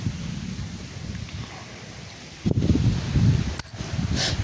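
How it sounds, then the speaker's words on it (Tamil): Outdoor wind gusting as a rainstorm begins, a low rumbling rush that jumps louder midway through with the soft rustle of leaves and a few sharp knocks, no talking. "காற்று மழை ஆரம்பிச்சிச்சுங்க"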